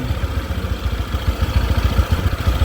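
Honda PCX scooter engine idling smoothly after bearing replacement, a steady low rhythmic thrum with soft regular pulses, close by and fairly loud, with no voices.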